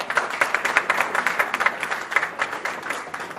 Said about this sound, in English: So we expect a louder round of applause for that.